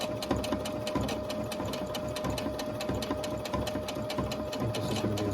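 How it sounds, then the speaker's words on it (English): A sewing machine runs steadily without its presser foot lowered, giving a fast, even mechanical clatter of stitching that stays loud and close with no break throughout. "if you ever want to know what happens when you don't put the foot down on your sewing machine, that's what happens."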